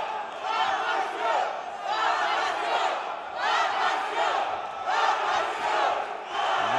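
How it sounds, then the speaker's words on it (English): A ringside crowd at a boxing match cheers for fighter Amansio Parashiv, with loud surging waves of shouting and chanting that swell and ebb repeatedly, and a commentator's voice carrying over the noise. "Amansio is the cheer you can hear going ringside."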